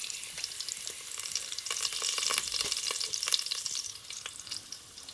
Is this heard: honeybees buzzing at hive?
no